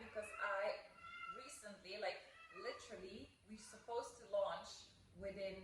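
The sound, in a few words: cat meowing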